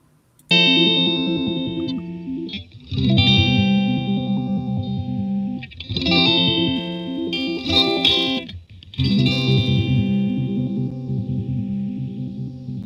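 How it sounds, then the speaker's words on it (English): Electric guitar played through a regenerator effects pedal: four loud, sustained, heavily processed chords with a shimmering, distorted, chorus-like wash, separated by brief breaks, with no talking. "I found the pedal. It wasn't a reverberator, it was a regenerator."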